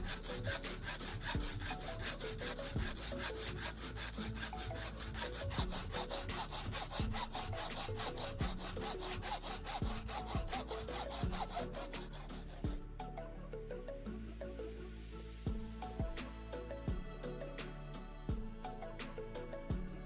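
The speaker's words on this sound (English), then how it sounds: "I'm using a hacksaw to carefully cut along the line I marked" A hacksaw cuts through PVC pipe held in a vise, producing a steady, continuous rasping stroke rhythm up close that runs throughout, with no voices.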